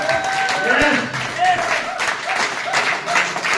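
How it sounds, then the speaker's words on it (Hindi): A standing audience at an event in Hisar, Haryana applauds the organizing team with arms raised, steady crowd clapping mixed with voices and some background tones. "दोनों हाथ ऊपर करके खड़े होकर तालियां बजा सकते हैं क्या?"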